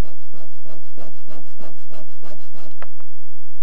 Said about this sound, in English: work with sandpaper to shave off one edge of each stick just a little bit